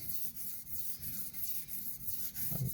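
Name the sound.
freehand sharpening a TRM Atom knife on a stone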